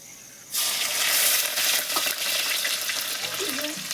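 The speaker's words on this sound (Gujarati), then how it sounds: "તો પ્રકાશ ફ્રાય કરશે" Vegetables hit hot oil with a sudden loud sizzle that keeps crackling steadily, with a faint scrape of stirring near the end.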